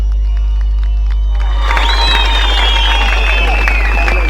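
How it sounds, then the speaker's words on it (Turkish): Outdoor crowd at a Turkish opposition political rally in the rain bursts into applause and cheering, a broad roar and clapping that swells in after a steady hum and carries on loudly to the end. "Kahraman Türk polisine bir yürekten alkış yapalım"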